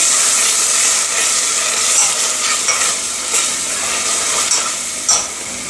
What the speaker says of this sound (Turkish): Karıştıralım.